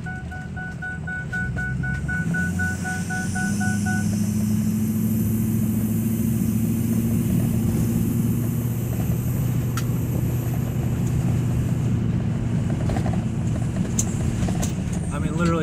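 A 2003 Ford Excursion with a 6.0 diesel engine drives along a narrow road through hilly river-valley country, its low engine drone steady and continuous throughout, with wind and road rumble mixed in.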